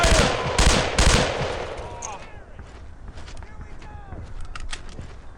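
Dense bursts of automatic gunfire and rifle shots from the World War II shooter Brothers in Arms: Earned in Blood, loud at the start and thinning to scattered, more distant shots, with soldiers shouting over the battle.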